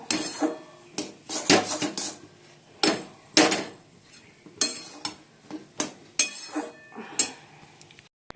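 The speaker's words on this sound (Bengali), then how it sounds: "হাঁড়িটা মাজবো, মেজে তারও প্রেসার কুকারগুলো রয়েছে, সবই রয়েছে, সব মাজবো।" Cooking pots and pressure cookers being scrubbed and handled, with bursts of metallic clanking and scraping separated by short pauses, close and loud, no talking.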